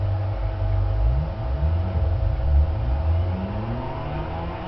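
A manual-transmission car's engine revs repeatedly while the clutch is held in and the gas pressed, loud close whirring that rises and falls in several swells.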